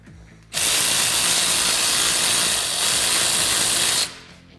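Ratchet wrench cranking loose lower A-arm hardware on a Kawasaki Teryx KRX 1000, a steady, close, fast clicking burst lasting several seconds before stopping abruptly, with no talking.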